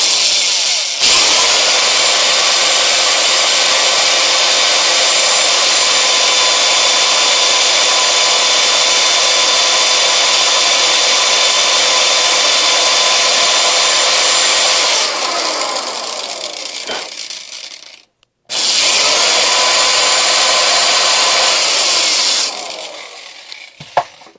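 Brush spinning inside a bentonite clay rocket nozzle to carve a groove, a loud harsh continuous grinding hiss that holds steady, cuts out briefly, then resumes before stopping.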